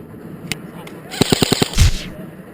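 An airsoft gun fires a rapid burst of about five sharp cracks outdoors on a wooded field, after a couple of single shots, followed by a short whooshing rush.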